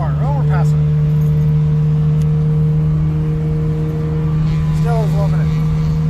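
A small tin-can micro car engine holds a steady loud hum near 6,000 RPM and shifts up into fourth gear, with someone talking over it throughout.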